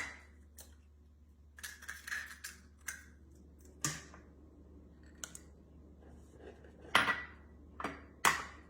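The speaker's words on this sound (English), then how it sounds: "I'm going to be putting 12 eggs, 1 dozen eggs into our mixture." A dozen room-temperature eggs are cracked into a bowl of heavy whipping cream for a ham and cheese casserole, giving sharp irregular taps and clinks of shell against the bowl, close and clear with no talking.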